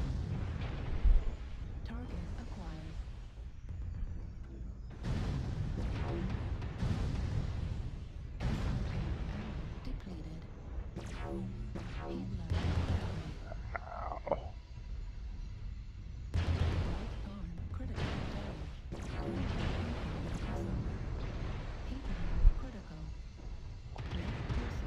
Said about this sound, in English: I ended up firing both lasers by accident.